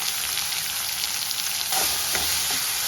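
Onions and tomatoes fry in a pan with a loud, continuous sizzle while a Kumbakonam kadappa is being cooked. A few stirring scrapes come through near the end.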